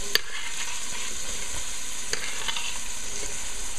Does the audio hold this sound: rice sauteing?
yes